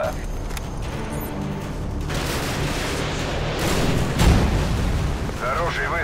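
An air-to-ground missile strike in the video game Modern Warfare 2: heavy booming explosions and rolling rumble build across the clip, with a loud impact near the end.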